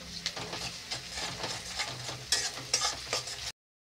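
Ginger paste stirred and sautéed in a hot pan for a jackfruit korma, giving a steady soft sizzle with a few sharper scraping strokes, close and alone, cutting off just before the end.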